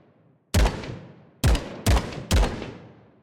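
Four sharp, loud shots from a P190 pistol at level 8 in the game Glory Frontline: one alone, then three in quicker succession, each with a booming crack and a short fading tail.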